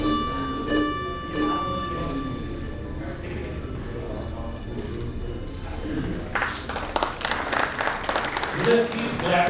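Scattered clapping from an audience at a builders' association gathering while names are announced over a public address system, with talk and a few chime-like tones; the clapping grows denser and louder toward the end.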